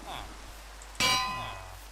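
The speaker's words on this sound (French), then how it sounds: "Je mets une deuxième cloche ici" A bell block is placed in Minecraft, giving a single bright metallic clang that rings out and slowly fades, with a faint voice briefly before it.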